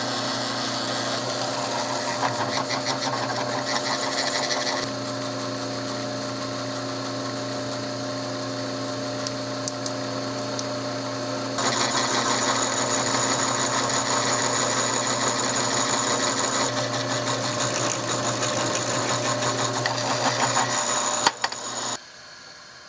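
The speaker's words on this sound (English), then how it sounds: "I'm going to drill them and tap them while it's in a big piece so I can hang on to it." Machine drilling and tapping of square nuts for a Victorian bed, cut for 7/16-14 thread from a larger steel piece, gives a steady mechanical whir with a constant hum, shifting in pitch as the work changes, plus a sharp clack near the end.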